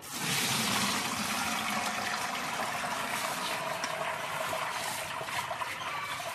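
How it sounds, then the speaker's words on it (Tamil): Washed rice is tipped into a basket and water streams and splashes through it in a steady, fairly faint hiss that keeps on without pause. "இந்த மாதிரி அரிசியை கொட்டி தண்ணியை வடிச்சுக்குங்க"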